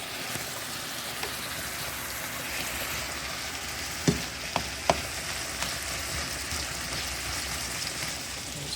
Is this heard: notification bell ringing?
no